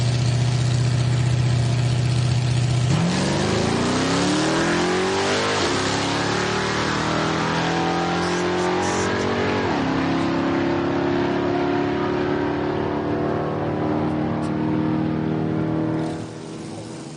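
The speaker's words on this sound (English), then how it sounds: "Steve Satterley, 70 Chevy Nova." A 1970 Chevy Nova drag car at a drag racing event at Heartland Park in Topeka, Kansas, idles with a loud, steady, deep rumble, then revs up in rising sweeps and settles into a higher, sustained engine roar.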